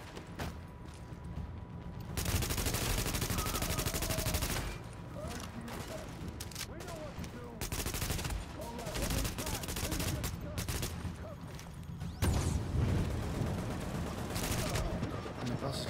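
A boss's heavy-weapons turret fires in The Division video game: dense bursts of loud gunfire come in waves, with mechanical clanks between them and a voice talking over the shooting.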